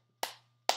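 Two sharp hand claps ring out close by, evenly spaced about half a second apart, each with a quick decay into near silence and a faint steady hum underneath.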